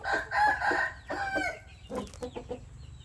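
A young Burmese rooster with a broken spur crows nearby in an outdoor garden, a loud drawn-out call followed by shorter clucking notes, with no talking.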